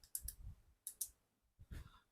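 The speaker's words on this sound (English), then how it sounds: "Just these membrane switches, or whatever you want to call them. Clicky tactile switches." Clicky tactile membrane switches on a circuit board are pressed close by, producing sharp faint clicks in quick pairs, three groups over about two seconds, with no talk.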